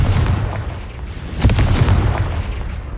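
Confringo blast spell cast in the Hogwarts Legacy video game: a loud booming burst near the middle, over a dense rumbling game soundscape that stays steady throughout.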